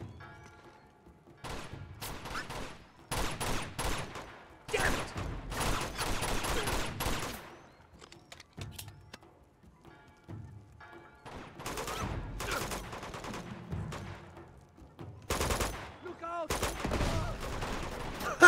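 Machine gun and other gunfire from the video game Uncharted 2 comes in repeated bursts of rapid automatic shots with short gaps between them, mixed with game sound effects, and no one speaks.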